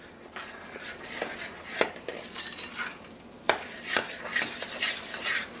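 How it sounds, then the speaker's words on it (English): A spoon stirs oil, vinegar and vanilla into wacky cake batter in a bowl, making soft, quiet scraping and tapping strokes. The strokes come in an uneven rhythm, with a few sharper clicks against the side of the bowl. "Your oil. Your vinegar and your vanilla. Stir it together."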